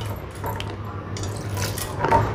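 Half a tumbler of water is poured into a cooking pot of pumpkin kootu with chana dal, making a steady, close trickling splash with no talking.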